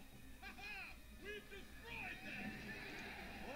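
Horses neigh and whinny in the Battle for Middle Earth strategy game, several rising and falling calls in quick succession with faint hoof clops beneath, while someone talks over them.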